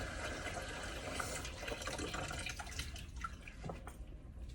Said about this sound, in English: So I got my warm water in there.